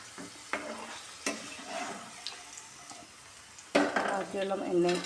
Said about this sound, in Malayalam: ബാക്കിയുള്ള മാങ്ങയും കൂടി നമുക്ക് മൂപ്പിച്ച് കോരാം